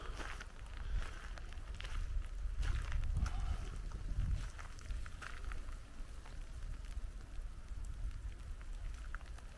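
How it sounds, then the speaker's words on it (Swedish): Wet sleet, rain mixed with snow, pattering steadily on outdoor surfaces in a snowy morning, a constant soft hiss with scattered sharper drops and low rumble throughout. "Snöblandat regn."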